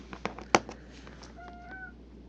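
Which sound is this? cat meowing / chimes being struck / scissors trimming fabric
cat meowing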